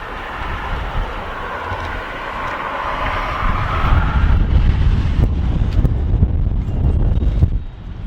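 Strong wind buffeting the microphone in a loud, continuous roar that swells partway through, with low rumbling gusts and no voices.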